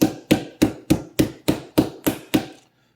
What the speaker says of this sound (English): I got the old mallet. So now we're going to just pound it out